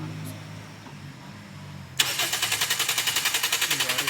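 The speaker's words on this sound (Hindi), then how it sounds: "गाड़ी स्टार्ट नहीं हो रही।" Starter of a Toyota Altis Grande with a suspected faulty relay cranking without catching, a sudden loud onset followed by a fast rhythmic chugging churn, preceded by faint background noise.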